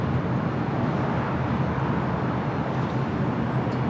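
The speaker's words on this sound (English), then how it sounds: "That's the flight heading to Newark." An airplane departing LAX for Newark roars as a steady, broadband jet rumble, loud and unbroken throughout.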